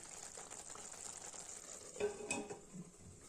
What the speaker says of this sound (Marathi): आता याला तरी सुटेपर्यंत छान परतून घेऊ